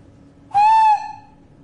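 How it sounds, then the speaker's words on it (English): A person whistles one clear, steady, loud note for about half a second, close up, with a faint hum in the background. "I will whistle for you."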